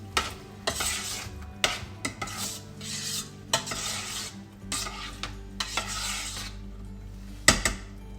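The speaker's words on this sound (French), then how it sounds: "Il faut mélanger pour que le sucre aille sur tous les grains de riz." Sugar is stirred into cooked rice for sweet pongal, with repeated scraping strokes of a spoon through the sticky grains, punctuated by sharper knocks of metal on the pot.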